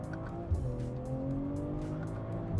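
A BMW M340i with a 382-horsepower engine accelerates hard in Sport Plus with the transmission in manual mode, its engine droning in a rising, steady tone heard from the cabin, with no talk.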